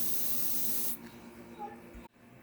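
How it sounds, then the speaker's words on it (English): Canned air blasts across a drop of alcohol ink, a loud, close, broadband hiss lasting about a second before dropping to a much quieter airy rush that cuts off abruptly. "and spray this way."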